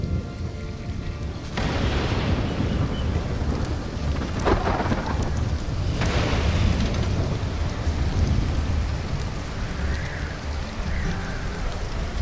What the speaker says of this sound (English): lightning storm kicks off.